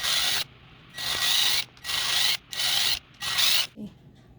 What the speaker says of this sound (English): I'm gonna go ahead and get myself drilling